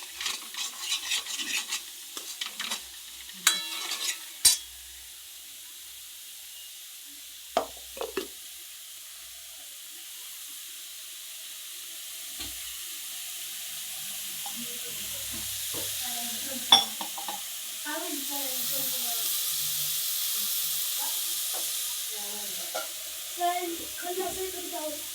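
Spice masala frying and being stirred in a pan on a gas flame turned up high, with a steady sizzling hiss under scattered utensil clinks and scraping, while someone talks intermittently nearby.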